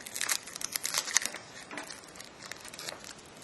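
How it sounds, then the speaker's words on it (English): Plastic wrap peeled off a Logitech 1080p Pro Stream webcam, a close, quiet run of crinkling and rustling bursts that come in clusters and then settle into softer crackles. "Get this plastic off here"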